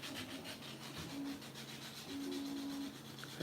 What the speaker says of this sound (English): Can you guys hear the sanding?